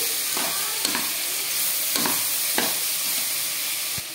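Spinach frying in a pan, a steady close sizzle with a few soft stirring scrapes and clicks, no voices.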